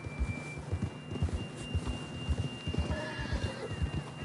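Horse in the Red Dead Redemption video game, rhythmic clip-clop of hooves trotting steadily and close, with a faint neigh partway through, no talking.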